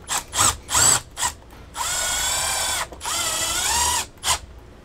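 Power drill driving reused screws into a Valterra RV ceiling vent base: several short whirring bursts followed by two longer sustained runs, then a final quick burst, close and loud with no speech.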